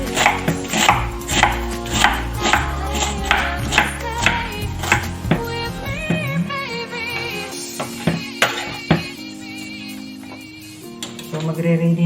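Knife chopping cabbage on a board, a fast run of sharp, evenly spaced chops for the first half, then slower scattered cuts with a few ringing clinks, close and clear.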